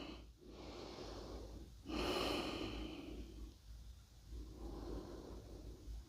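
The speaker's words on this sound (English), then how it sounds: "Relax the chest, no chest breathing, just belly breathing." Slow, deep breaths during a seated yoga twist in a hatha class, close and airy, with long inhales and exhales rising and falling in a steady rhythm, one louder breath near the middle, no talking.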